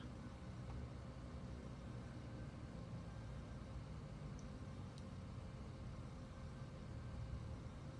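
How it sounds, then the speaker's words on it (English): Saab 340 turboprop engine starting in Microsoft Flight Simulator 2024, a steady, dense low rumble and whir holding at an even level throughout, with no voices. "that's successfully turned on that engine"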